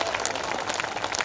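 Audience clapping at a Hindi poetry recital, a kavi sammelan in Sitapur-Hempur, dense steady applause from a crowd filling the short moment.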